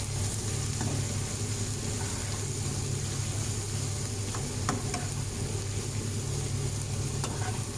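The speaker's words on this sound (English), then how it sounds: "You need to continue mixing this onion mixture. You don't want them to burn it." An onion mixture with seasoning frying in a pan, a loud continuous sizzle with occasional scraping clicks from stirring, steady throughout and heard up close with no talk.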